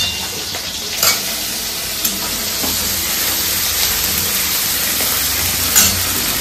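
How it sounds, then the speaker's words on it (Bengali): Several fish fry together in a large wok, giving a loud, steady close sizzle with occasional soft stirring knocks and no speech. "কড়াইটা বড় বলে একসাথে 2-4টে করে মাছ ভাজা যাচ্ছে।"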